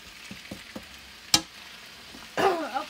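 Stir-fry vegetables, thawing from frozen, sizzle softly in a pan under a steady low crackle, with a few light taps early on, a sharp clank midway and a louder burst of sizzling and scraping near the end.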